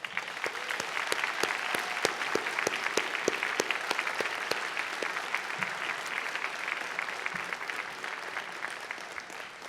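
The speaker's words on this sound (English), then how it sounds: "I think they deserve a round of applause" Audience at a college convocation ceremony applauding: dense, sustained clapping from many hands filling the room, steady and loud throughout with no voices standing out.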